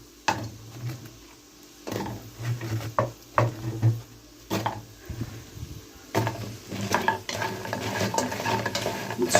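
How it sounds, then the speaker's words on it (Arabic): Garlic sautés in a pan with a soft ongoing sizzle, broken by repeated scraping and clinking stirs of a utensil against the pan in irregular bursts, close up with no talking. "بتشوح في حته الثوم، بتبقى حلوه قوي"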